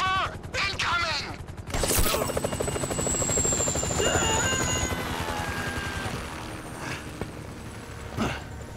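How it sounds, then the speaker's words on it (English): A helicopter approaches in Grand Theft Auto V, its rotor chop thumping loud and continuous amid gunfire bursts, mechanical whines and game effects, with in-game voices shouting early on. "Can you hear that? Chopper! Incoming!"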